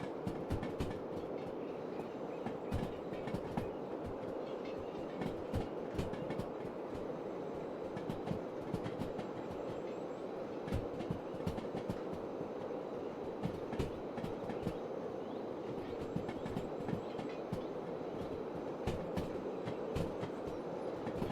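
A long video-game freight train of 164 wagons with a caboose rolls past, its wheels keeping up a continuous low rumble and a repeating clickety-clack at a steady moderate level with no talk.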